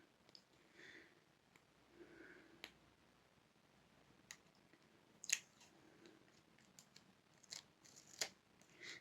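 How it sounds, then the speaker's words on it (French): A small piece of adhesive tape is cut with scissors while labels are fixed onto pouches, giving a few sharp snips and clicks spread over quiet handling sounds, close and fairly soft, with no talking. "Un petit morceau de scotch."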